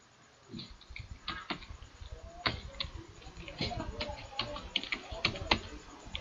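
Someone types on a computer keyboard while entering text into a Microsoft Word document. The keys click up close in an irregular patter of light taps, with a soft voice at times.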